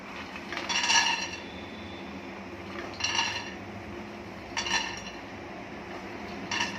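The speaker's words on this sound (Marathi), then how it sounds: "आणि आता त्याच्यातच शेंगदाणे टाकायचे" Peanuts tipped into a pan of spinach, giving a few soft clinks and rattles against the metal at intervals over a low steady background, with no talk.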